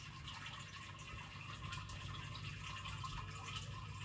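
Steady trickle of water from a small feature in a newly set-up fish tank with fresh rocks, a continuous soft running splash alone at low level.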